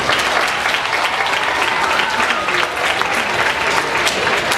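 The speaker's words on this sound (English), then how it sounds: "We gave the Sheriff Department a round of applause." A large crowd at a community gathering applauds the Sheriff Department, a loud, dense, continuous wash of clapping with no voices over it.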